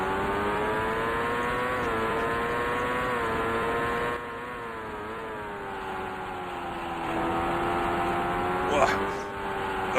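Simulated IndyCar engine at the 1990 Cleveland Grand Prix in Indycar Racing II, a steady loud harmonic drone that shifts pitch through corners, with a brief tyre-scrub burst near the end.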